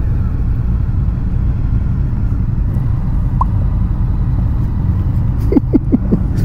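A 2022 Indian FTR motorcycle ridden along a canyon road: steady loud engine drone and wind rumble throughout, with a few brief higher bursts near the end.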